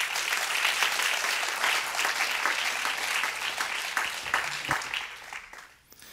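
A warm round of audience applause greets a keynote speaker at a higher education conference, steady and dense clapping for about five seconds before fading out at the end.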